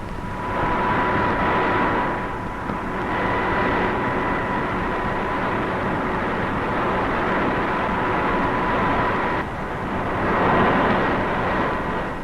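Rotors of RAF Bristol Belvedere helicopters pound in a heavy, steady drone that carries on for several seconds, with the level dipping briefly twice before swelling again.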